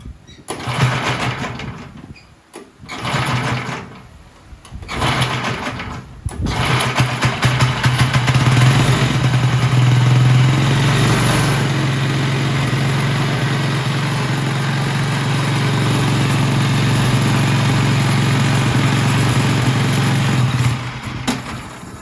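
Small engine on a 1950s or 1960s Craftsman lawn tractor sputters in short bursts, then catches and runs steadily at higher revs with a loud, even drone that holds for about fifteen seconds before easing off.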